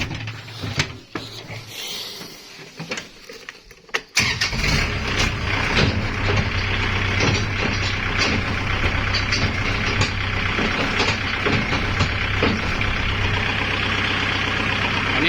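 Kubota tractor engine running while reversing to hitch a disc plough implement, a few knocks and clatters at first, then a steady, loud idling rumble with mechanical rattles throughout.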